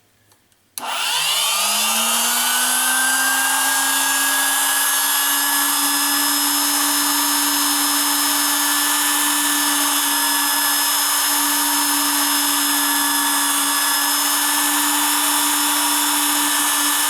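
A drill boring holes in metal runs at a steady high whine for the whole stretch after a brief click at the start, loud and close with no pauses.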